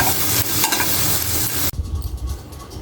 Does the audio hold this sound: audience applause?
no